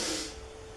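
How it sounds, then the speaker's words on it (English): A deep inhale during a yoga session makes a breathy hiss that is strongest at the start and then tapers off, close to the microphone. "I take another breath in"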